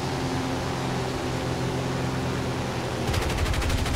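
Rapid-fire aircraft guns in War Thunder, a fast rattling stream that kicks in near the end over a steady droning engine hum.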